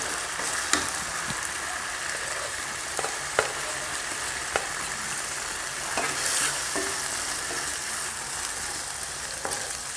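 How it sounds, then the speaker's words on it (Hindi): Minced keema fries with salt in a pan for leftover-rice biryani, a loud continuous sizzle with repeated scraping strokes of a spoon stirring the meat, close up and without voices. "इसको अच्छे से मिला लेंगे"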